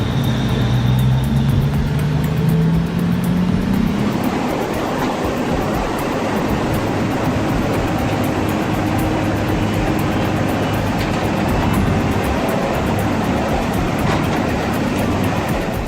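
An excavator's engine roars steadily while the machine pushes through a strong river current, a loud continuous rumble blended with rushing water throughout, with a falling tone fading out in the first few seconds.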